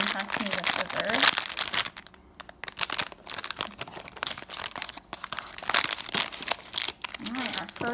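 Cardboard Funko mystery mini boxes being torn and opened produce bursts of crinkling and ripping, close and irregular, with brief voices in between.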